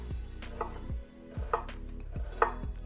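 A knife slices vertically down through an onion on a cutting board, giving several sharp, close chopping thunks at an uneven pace with brief pauses between cuts.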